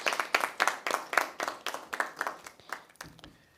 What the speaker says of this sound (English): I think we should all give them, a round of applause for their work